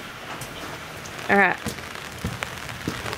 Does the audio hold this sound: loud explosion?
no